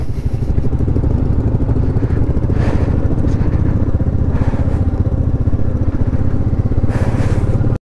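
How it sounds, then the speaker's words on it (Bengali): Motorcycle engine revving loud and close as the bike's rear wheel skids through thick mud on a landslide-damaged mountain road in Sikkim, a steady rough drone throughout with faint clatter. "স্কিড করে যাচ্ছে বাইকের পিছনের চাকা।"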